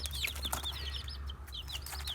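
Young chicks peep over and over in quick, high, sweeping chirps, close by and steady above a low background hum, with no one talking.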